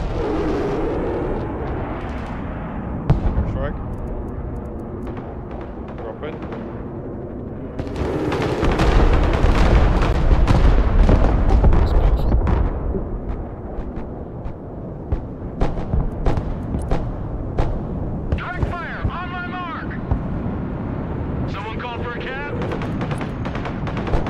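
Bombs go off in the Broken Arrow war game as a heavy rolling blast midway, with scattered booms and gunfire around it, and people talk over parts of it.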